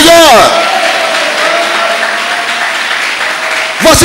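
A church congregation breaks into sustained, loud applause that fills the room for a few seconds before a voice returns at the end.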